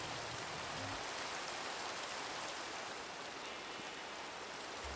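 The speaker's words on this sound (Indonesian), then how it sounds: "Di luar hujan ya? Iya, hujan." Steady rain pouring down, a dense even hiss of drops on surfaces with no voices, constant throughout.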